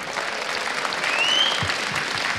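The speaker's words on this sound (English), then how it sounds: "Give a round of applause for Gaming Gear EU." Crowd applause for the winning team at a League of Legends esports championship ceremony, loud dense clapping filling the hall, with a brief whistle-like tone rising over it partway through.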